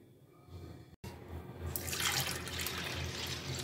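About 1.5 litres of water is poured onto a kilo of chana dal in a kitchen. A quiet start gives way to a steady, splashing pour that stays close and continuous, with no talk.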